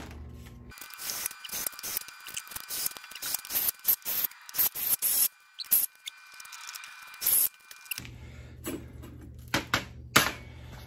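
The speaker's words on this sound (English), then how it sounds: "So we need to countersunk these a little bit." Screw holes in a Mantis rotating compact composter gear being countersunk, with short close bursts of grinding and scraping separated by pauses, then quieter handling noises.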